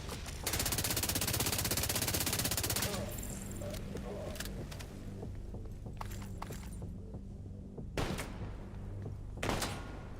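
Gunfire in the video game Dune Awakening: a dense, steady burst of automatic fire at the start, then scattered quieter shots and thumps under a talking voice, all fairly faint.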